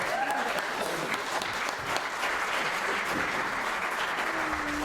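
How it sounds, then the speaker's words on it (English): An audience at a Christmas at Sea event applauds a man named Brian with loud, continuous clapping that holds steady throughout, with faint crowd murmur beneath. "Now we've given a lot of applause to Brian."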